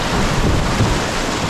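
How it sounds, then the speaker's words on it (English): Rapids on a Nova Scotia river in spring, near snow: a loud, continuous rushing roar of churning water that fills the sound without a break and carries no voices. "We got some rapids ahead of us."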